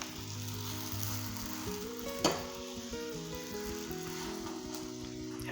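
A pancake fries in hot oil in a pan, giving a continuous loud sizzle with a brief clatter partway through.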